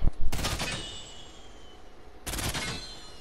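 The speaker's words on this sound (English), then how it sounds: "I'm shooting the head, I'm seeing how much damage it does" Video game gunfire aimed at a target: two sharp bursts of rapid automatic shots, one at the start and another near the end, loud and close with a quieter gap between.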